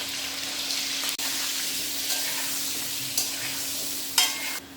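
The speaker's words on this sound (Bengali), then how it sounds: "আলু ভাজা হয়ে গেছে, এবার আমি এক এক করে উঠিয়ে নেব।" Potatoes seasoned with salt and turmeric fry in a pan, a steady close sizzle broken by a few clinks and scrapes of stirring, with no talk.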